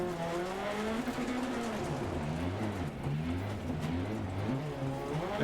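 A rally car slides and spins on loose gravel in Dirt Rally 2.0. The engine drones steadily with pitch sweeping up and down, and there is no talk.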